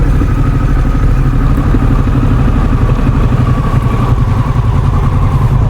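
Harley-Davidson Pan America ST motorcycle engine running steadily, a loud close rumbling idle with a rapid pulsing throb throughout.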